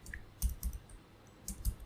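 Faint computer mouse clicks in a quiet room, a few soft separate taps in loose pairs, close but low in level with no talk.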